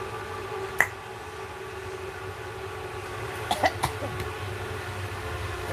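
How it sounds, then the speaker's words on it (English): A few sharp coughs, one early and a short cluster later, against a quiet steady background hum. "stop coughing"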